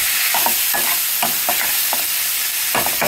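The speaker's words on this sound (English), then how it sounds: "So mix that and let that cook for about 5 minutes." Snake gourd stir-frying in a pan, with a steady crackling sizzle and regular scraping strokes of a stirring utensil, close and with no talking.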